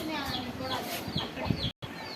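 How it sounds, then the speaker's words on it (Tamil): Native country chickens clucking and chirping on a farm, with short calls repeating throughout over a busy background and a voice talking nearby. "இதாங்க நம்ம நாட்டுக்கோழி ஒன்று தெரியுதா?"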